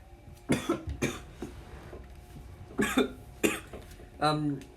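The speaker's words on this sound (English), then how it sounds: "Minato just heard coughing in the room" Several harsh coughs come in short clusters, close and fairly loud, spaced out over a few seconds against a quiet room.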